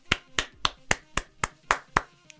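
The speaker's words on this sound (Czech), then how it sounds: "velký potlesk" Slow, evenly spaced hand claps, eight or nine crisp single claps from one nearby person in a steady rhythm with a short trailing clap at the end.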